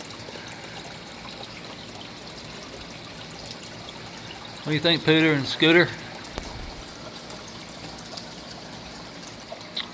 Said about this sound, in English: So we're gonna have to add some water today too. Probably just 2 gallons of water is all we need.